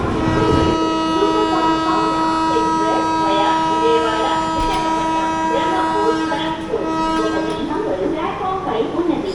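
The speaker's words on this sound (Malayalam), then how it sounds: "SMB Bengaluru super fast express" An SMB Bangalore Superfast Express train passes with a long, sustained horn blast over rumbling wheels on rails. The horn cuts off near the end, and someone speaks over the noise.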